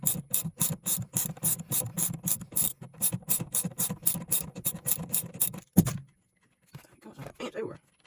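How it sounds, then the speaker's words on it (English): Ratchet wrench unscrewing a 15mm bolt on a Mazda mini truck seat, a rapid run of close, crisp clicks in quick bursts, then a clunk and a short pause before a few softer clicks. "that's a 15mm bolt. You can go ahead and unscrew that."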